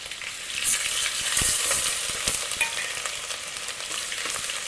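Ginger garlic paste frying hard in a pan of oil and butter, a loud continuous sizzle broken by sharper scrapes as it is stirred, no voices over it.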